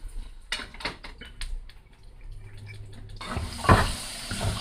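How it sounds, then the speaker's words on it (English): Water is poured into a pot right after tofu was fried in it, starting with light clinks and scattered taps, then a brief sizzling, splashing rush partway through that settles into a soft hiss. "I just added a teeny bit of water to my pot after I fried my tofu"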